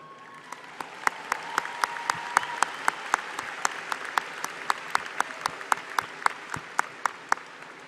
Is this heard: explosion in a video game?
no